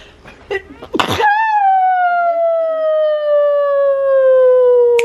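A short, sharp sneeze bursts out, followed by a long, steady tonal wail from a train that slowly drops in pitch.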